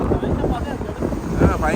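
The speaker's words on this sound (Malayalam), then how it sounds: "പക്ഷെ കാറ്റ് ഭയങ്കരമായിട്ട്, കാറ്റ് അപാര കാറ്റ്" Strong desert wind buffets the microphone in a dense, rumbling roar throughout, while voices can be heard faintly underneath.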